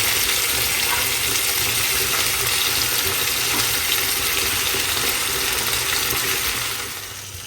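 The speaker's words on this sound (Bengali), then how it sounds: "সেই জন্য আমি টমেটোটা ভাজি করব।" Tomatoes fry in a pan with a loud, continuous hiss and sizzle that holds steady, then eases off slightly at the very end.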